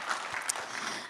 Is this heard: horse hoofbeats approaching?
no